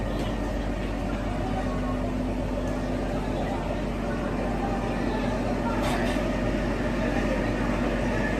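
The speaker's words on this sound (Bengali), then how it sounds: "দাঁড়িয়ে আছি হচ্ছে আমাদের টয় ট্রেনের সামনে। শিবালিক ডিলাক্স 52451 ছাড়বে হচ্ছে 5:45।" The Shivalik Deluxe toy train, number 52451, stands at a station in Himachal Pradesh with a steady low hum throughout and faint platform bustle in the background.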